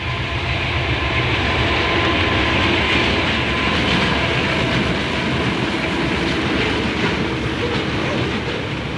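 A Chicago and North Western locomotive-hauled train rolls past in a steady, loud, continuous rumble with a faint rhythmic clatter of wheels on rail throughout.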